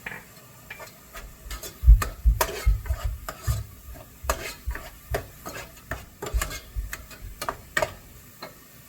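Onion frying with garlic, ginger and green chili paste for Punjabi chole, a spoon scraping and stirring the pan in quick irregular strokes over a soft sizzle, close and fairly loud with no talking.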